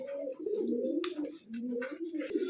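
Soft, low cooing from a nearby pigeon repeats in throaty rolls, with a few sharp clicks and rustles between.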